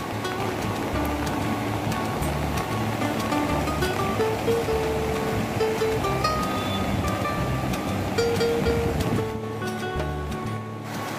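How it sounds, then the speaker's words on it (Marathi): A river swollen by monsoon rain roars in a broad, continuous wash of flowing water, loud and steady throughout, with faint tonal sounds drifting through and a slight easing near the end. "पाऊस लागतो त्यामुळे नदी पूर्ण भरले, अशी भरले की पूर एवढा पूर आला"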